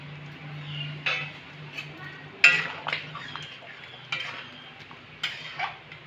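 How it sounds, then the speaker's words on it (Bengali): Kashmiri chicken stirred in a pan over a medium flame, with repeated close scrapes and taps of the spatula against metal over a low steady hum. "আবারও 3 থেকে 4 মিনিট নেড়ে নেব।"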